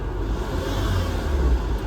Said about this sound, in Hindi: बिल्कुल छूते ही एक्सीलेटर